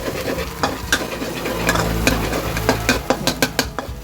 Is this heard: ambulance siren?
no